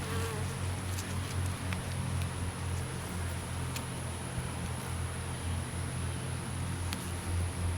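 Honey bees hum steadily in a dense, continuous drone from an open hive during a week-seven inspection, close and even throughout with faint rustling of frames.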